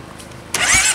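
A Honda CBR 250RR motorcycle engine fires up after a brief quiet moment, catching abruptly into a loud, close running note.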